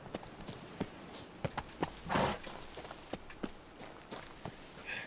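Horse hooves clip-clop in The Witcher 3: Wild Hunt Blood and Wine, a close, irregular patter of crisp strikes over a quiet background.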